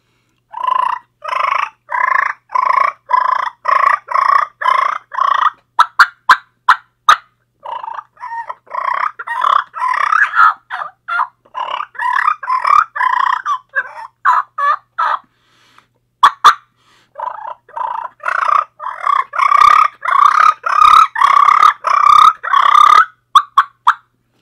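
A mouth call imitates a fight between two turkey gobblers and two hens, loud rapid purrs and sharp clucks in rhythmic bursts, with short pauses between flurries and no talking.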